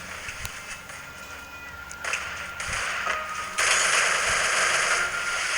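Gunfire in a shooter video game, with bursts of rapid automatic shots and single cracks that build louder toward the end, with no talk over them.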